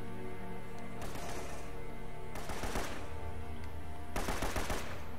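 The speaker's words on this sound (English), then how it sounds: "Is somebody shooting at me?" Gunfire in an Uncharted game, three bursts of rapid automatic shots, each lasting about a second, spaced apart over a steady, busy game background.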